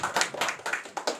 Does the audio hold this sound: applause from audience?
yes